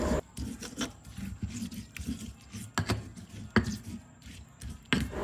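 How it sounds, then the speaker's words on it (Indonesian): Spice paste being ground with hot oil in a stone mortar and pestle, giving repeated scraping, knocking strokes in an irregular rhythm, close and fairly loud with no talk. "Sekarang kita ulek-ulek sampai minyaknya tercampur dengan semua bumbunya."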